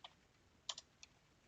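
A few sparse keystrokes on a computer keyboard while writing PHP PDO query code, soft clicks spaced out with a short double tap in the middle, close and quiet.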